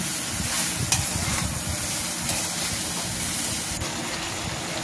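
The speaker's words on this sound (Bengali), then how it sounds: "1 চামচ হলুদ গুঁড়ো, 1 চামচ লবণ দিয়ে আমি ভালো করে কষিয়ে নেব।" Prawns and bottle gourd sautéing with turmeric and salt in a pan with little oil give a dense, close sizzle, broken by the scrape and rattle of stirring, with no one talking.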